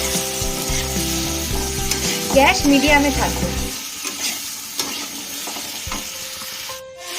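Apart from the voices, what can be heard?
crushed ginger frying in oil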